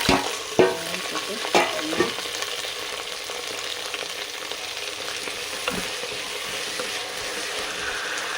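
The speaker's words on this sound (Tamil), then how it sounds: "நல்லா வதங்கிடுச்சு." Chopped thuthuvalai greens sautéing in a pan for a kuzhambu, a steady close sizzle with a few sharp spoon scrapes and stirring knocks early on, then continuous frying hiss.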